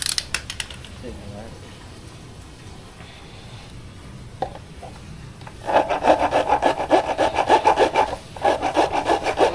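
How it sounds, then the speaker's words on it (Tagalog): Quiet scraping at first, then a hand saw cutting with fast, steady back-and-forth rasping strokes, brief pause, then more rhythmic sawing close by. "Lagari pre."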